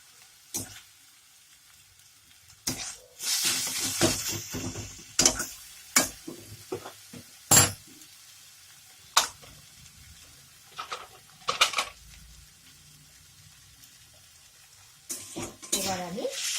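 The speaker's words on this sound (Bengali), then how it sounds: "আমার মেথি শাকটা প্রায় হয়েই এসেছে, আর 1 মিনিট নাড়লে" Fenugreek greens (methi shak) frying in a pan, Bengali style, with close, intermittent scraping stir strokes and soft background sizzle, quiet gaps between bursts of spatula clatter.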